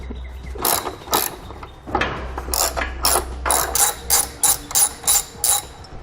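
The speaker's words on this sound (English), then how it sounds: "we're going to remove this one here, again using a 13." A ratchet with a 13 mm socket loosening a muffler hanger bolt under a 2018 Dodge Grand Caravan, heard as close, crisp bursts of rapid clicking, first sporadic and then a regular run of short strokes near the end.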